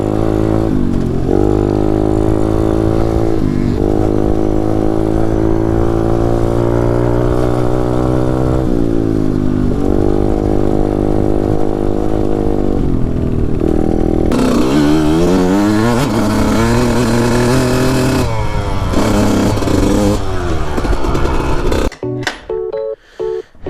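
Taotao DB17 125 pit bike engine revving hard and loud up close, a sustained buzzing drone with rising and falling throttle pitch that holds steady, then climbs through rapid revs before cutting off abruptly near the end.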